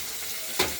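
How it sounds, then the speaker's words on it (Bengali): Tomato pieces fry in a pan with a steady hissing sizzle, and a single brief scrape or stir lifts the sound near the end of the short stretch. "টমেটোগুলোকে একটু ভাজা ভাজা করে নেব"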